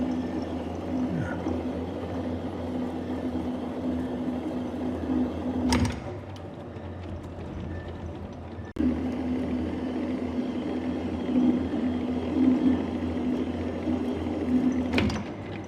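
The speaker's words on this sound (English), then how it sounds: "that safety clutch on the lead screw tripped again" A metal lathe cutting a thread under power feed hums steadily throughout, with two sharp clunks as the lead screw safety clutch trips, one near the middle and another near the end.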